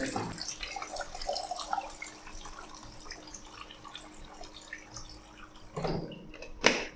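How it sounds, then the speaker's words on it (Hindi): Water streams steadily from several straws in a classroom pressure experiment, a soft continuous trickle and splatter that swells into louder splashing near the end. "सारे स्ट्रॉ से जो पानी आ रहा था वो समान दूरी पे गिर रहा था"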